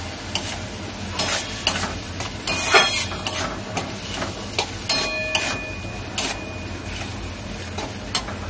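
Katla fish head muri ghonto with tomato being stirred and sautéed in a pan, bright scraping clinks of a spatula against metal recurring every second or so over a steady low sizzle, close and moderately loud.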